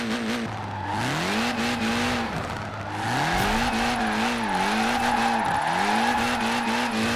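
A Ford in Forza Horizon 4 spins a single driven wheel, its engine revving in loud rising and falling surges while tire squeal runs steadily underneath; no one talks.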